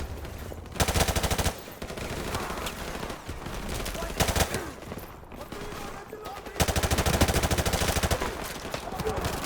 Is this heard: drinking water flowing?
no